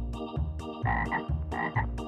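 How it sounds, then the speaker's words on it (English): A frog croaks in a rapid run of low, raspy calls, close and fairly loud, with no voices. "Green frog."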